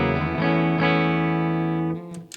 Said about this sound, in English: So the Iridium sounds like this.